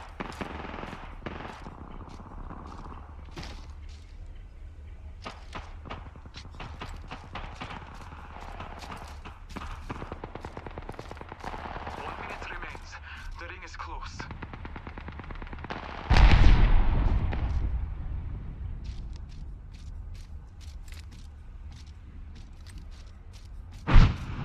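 Gunfire rattles through a video game match in repeated short bursts and single cracks over roughly twenty-five seconds, mostly moderate in level, with a heavier blast near the midpoint and another sharp shot right at the end.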